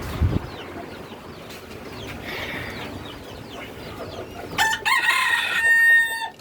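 A hen clucks nearby in a poultry coop where chicks have just hatched. Soft, scattered clucks give way to a louder burst of harsh, raised squawking near the end, with no talk.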